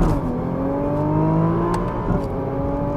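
A Nissan GT-R launches hard from a standstill, its engine rising steadily in pitch under full acceleration with a brief gear change near the end, loud and close.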